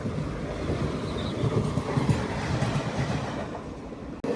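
The Visakhapatnam Machilipatnam Express running over a crossover, heard from aboard as a steady loud rumble with faint rhythmic wheel clatter throughout, ending in a brief sharp jolt near the end.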